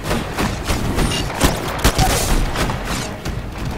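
Smart pistol gunfire in the video game Titanfall, a rapid scatter of sharp cracks and booms over a busy game soundtrack, several loud shots clustered near the middle.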